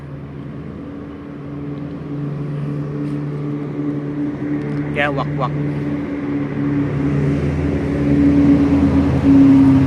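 A motorcycle travels through city traffic on Ortigas Avenue toward San Juan, its engine droning steadily and growing louder toward the end amid surrounding road noise, while someone talks over it.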